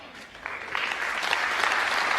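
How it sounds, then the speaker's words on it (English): Studio audience applause builds from a quieter start into loud, sustained clapping with a few cheers, coming from a played film or television excerpt. "The applause there is brilliant."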